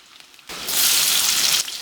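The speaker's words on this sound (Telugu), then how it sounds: "ఆ నూనెలోకి ముందు ముక్కలు వేసుకోవాలి ముక్కలు వేసుకుని ముక్కల్ని మంచిగా వేయించేసుకోవాలన్నమాట" Pieces drop into hot oil in a home kitchen and burst into a loud, close, continuous sizzle that holds strongly before easing slightly at the end.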